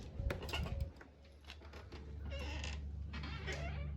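A lodge room door creaks open with a long, drawn-out groan, a few close knocks and handling sounds at the start, then a steady low hum as it swings inside.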